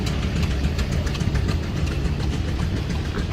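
A Minneapolis steam traction engine runs at a threshers reunion, giving a steady, loud mechanical rumble with faint rhythmic clatter, no voices over it.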